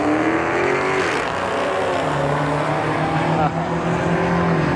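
A Mustang racing down the drag strip at Beech Bend Raceway Park, its engine a loud sustained roar with rising pitch, heard continuously at a moderate distance, and a voice talks briefly over it.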